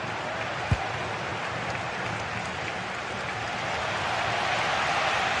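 A stadium crowd in a football video game roars as a steady, broad wash of cheering and applause that swells slightly toward the end, with one sharp thump near the start.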